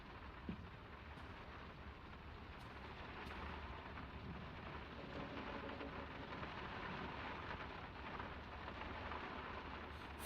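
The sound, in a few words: rain and thunder in the video game Draugen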